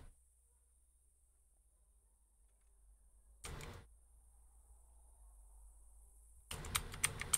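Arrow keys on a computer keyboard are pressed in two short bursts of clicks, one brief and one longer, in an otherwise quiet room with a faint high hum.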